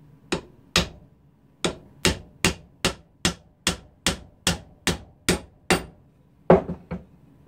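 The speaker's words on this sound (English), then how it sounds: "This will make it a whole lot easier for me to hammer and get it about perfect." Hammer blows on a craft piece being built in a home workshop, a dozen sharp, evenly spaced strikes ringing out close and loud, with a slightly heavier final hit after a short pause.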